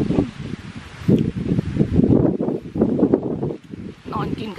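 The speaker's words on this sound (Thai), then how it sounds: "คุณไปเถอะลมพัดมากเลย" Strong gusty wind buffets the microphone outdoors in a strawberry field, rising and falling in bursts that drown out most other detail.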